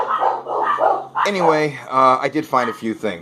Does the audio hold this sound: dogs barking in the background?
yes